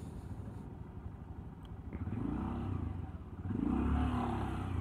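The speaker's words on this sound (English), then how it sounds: "Motorcycle." A Honda Grom motorcycle rides along, its small engine note pulsing steadily and swelling twice as it accelerates, fairly quiet overall with road and wind noise.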